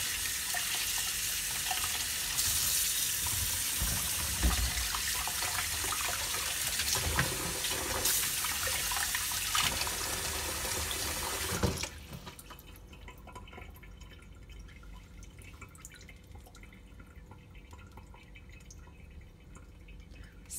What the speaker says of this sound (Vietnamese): bắt đầu rửa xoài. Xoài mình rửa cho sạch mũ.